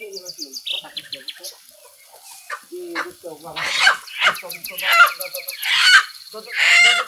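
Chicken clucks and squawks in short bursts, fairly close, with chirps and other bird calls mixed in and voices talking intermittently.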